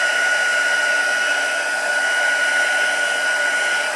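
A heat tool blows hot air over embossed hearts on a handmade card, giving a steady, loud, unbroken whoosh and hum throughout with no voices.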